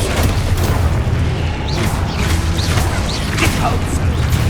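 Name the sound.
Expulso explosion spell in Hogwarts Legacy video game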